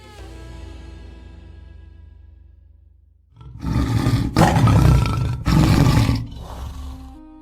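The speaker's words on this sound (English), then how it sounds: "the silence is shattered by a deep, thunderous roar rolling across the horizon" A lion lets out a deep, thunderous roar that rolls across open country: a loud, close series of powerful low bellows after a quieter lead-in of fading sound.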